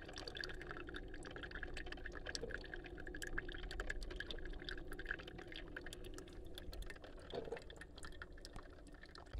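Hot coffee pours slowly from a coffee maker in a faint, continuous trickle with small drips and light clicks throughout, quiet and close.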